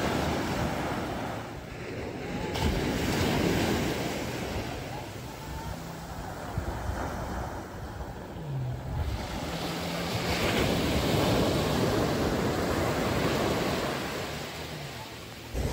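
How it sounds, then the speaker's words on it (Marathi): Rough, churning sea waves roll and break on a beach at Ganapatipule on the Konkan coast, a loud continuous surf wash that swells and eases over time, with wind buffeting the microphone and no voices. "हा असा आहे बीचचा नजारा बघा, पूर्ण लाटांनी खवळले समुद्र"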